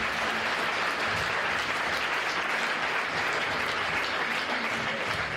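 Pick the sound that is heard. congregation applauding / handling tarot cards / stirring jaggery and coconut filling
congregation applauding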